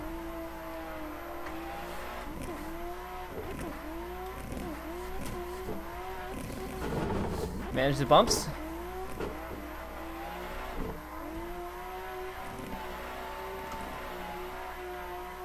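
A video game car engine drones and revs through gear shifts, with a brief louder burst midway; a voice speaks a few words over it.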